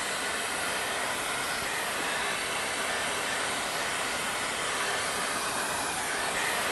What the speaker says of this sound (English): So we're going to use a shop vac or an air vac.